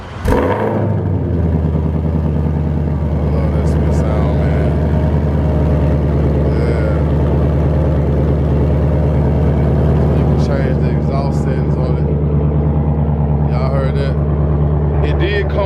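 A 2021 Ford Mustang Shelby GT500 with active exhaust fires up with a sharp cranking burst, then settles into a loud, deep, rumbling idle close by; a person speaks over the engine.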